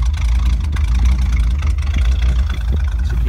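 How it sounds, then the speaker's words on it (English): A 1956 Ford Fairlane Crown Victoria coupe idles through its dual exhaust, a deep, even burble heard up close at the tailpipes, steady with no revving. "Let's walk around the back so you can hear the exhaust. It's got a lovely dual exhaust"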